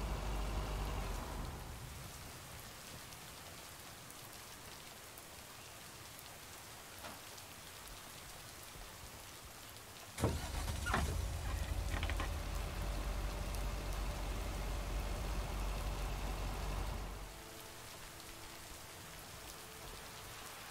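Rain pours steadily on a stormy night in the video game Lake, a soft continuous hiss. Midway a deeper rumbling thump joins in and swells for several seconds, then fades back to rain alone.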